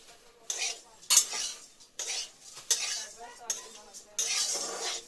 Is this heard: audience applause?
no